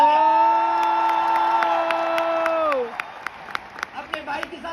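Audience at a business success-day event breaks into applause and whoops after sustained music fades, with scattered claps and cheers rising over a low crowd murmur.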